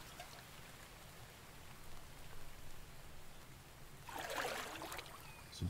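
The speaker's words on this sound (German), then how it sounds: "Das ist doch heftig mit dem Regen." Heavy rain in a survival video game pours as a steady, dense hiss, swelling briefly into a louder burst of splashing near the end, with no voices.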